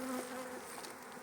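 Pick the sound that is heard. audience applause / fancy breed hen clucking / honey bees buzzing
honey bees buzzing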